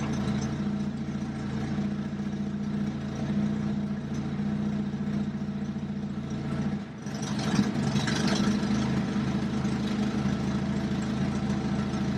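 A Jeep engine idles steadily in gear, a low continuous rumble with a brief dip and slight change in tone partway through, close and even, with no voices.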